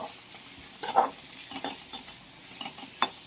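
Onions frying in a pan with salt, stirred with a utensil: a steady close sizzle broken by several scraping strokes that come in short bursts, with no talking.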